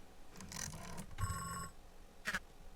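A telephone rings in the Beacon Pines video game as a few short, faint ringing bursts, separated by gaps, over quiet game ambience with no talking.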